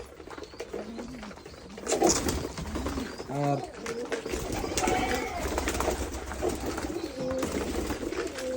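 Domestic pigeons coo repeatedly at a small home pigeon farm, soft rolling calls from several birds close by, while a person talks over them at times.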